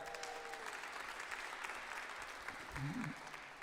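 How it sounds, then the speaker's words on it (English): Church congregation on a Sunday gives a short round of applause, steady clapping heard at a distance and fairly quiet, with a voice briefly sounding near the end. "Let's have a little round of applause for that."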